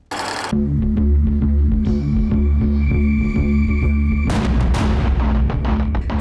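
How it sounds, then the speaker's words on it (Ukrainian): A sudden heavy boom from a powerful explosion in Khmelnytskyi region, Ukraine, erupts and rumbles on at steady loudness, with a second jolt of blast noise partway through over a low droning roar. "на Хмельниччині лунає потужний вибух"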